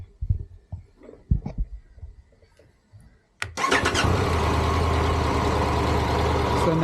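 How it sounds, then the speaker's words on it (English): A 2022 Triumph Tiger Rally Explorer motorcycle starts up after quiet clicks and handling noises, the starter catching abruptly and settling into a loud, steady close idle. "I'll turn the bike on."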